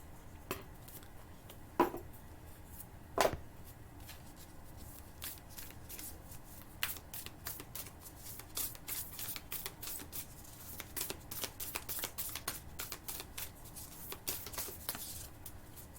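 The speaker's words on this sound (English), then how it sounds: "let me pull a Moonology card since we got the moon out" Moonology oracle cards being shuffled by hand, a run of soft riffling and flicking bursts with a couple of sharper taps early on, fairly close and quiet, with no talking.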